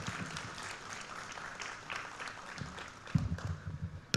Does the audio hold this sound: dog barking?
no